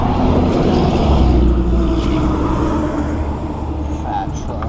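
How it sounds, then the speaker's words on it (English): A big truck rumbles past nearby, its loud low roar swelling and then gradually easing off, with a few faint voice sounds toward the end. "Fat truck."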